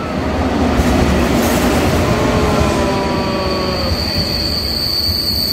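Inside the carriage of a KTX high-speed train bound for Mokpo, a loud, steady roar of rushing rail noise carries a high whine and faint wheel squeal throughout.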